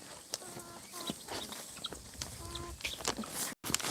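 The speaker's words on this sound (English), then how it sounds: "We've got so many more other chickens." Chickens cluck and call in their pen, a busy mix of short clucks and squawks at close range, with a person speaking now and then.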